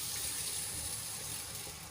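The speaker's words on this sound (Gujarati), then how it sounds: "તો અહીંયા ચોખાને આપણે સારી રીતે બે પાણીથી સરસ રીતે ધોઈને સાફ કરી લઈશું" Long-grain rice being rinsed in water, a steady continuous watery splashing and running sound, close and fairly quiet throughout with no talk.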